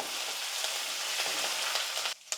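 Steady, crackling sizzle of lentils, chilies and curry leaves frying in a hot pan, close up, with faint stirring scrapes and a brief dip near the end.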